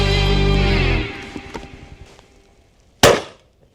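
A shotgun fires a Sporting 100 shell, one sharp loud blast close by, following the fading tail of an earlier shot.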